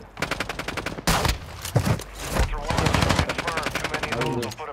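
Rapid automatic gunfire in Call of Duty DMZ, aimed at the player. Loud, close bursts run in quick, regular strings of shots, broken by heavier impacts midway, with a voice speaking briefly among the shots.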